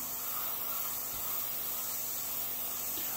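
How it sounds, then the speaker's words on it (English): Steady broadband hiss of a paint spray gun laying a light white coat on a Chevelle, continuous and fairly close, alone without talk. "by spraying that first white light layer, I could see that it was white before it became a problem"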